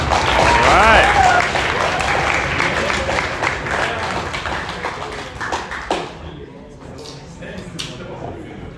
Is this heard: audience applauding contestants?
yes